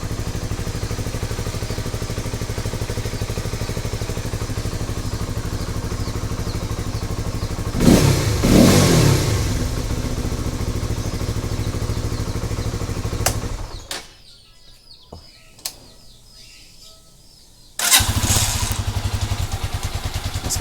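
A Rusi Flash 150X V3 motorcycle idles steadily after a cold start, a low even engine hum with a louder burst partway through, then a sudden drop to near silence before the idle returns.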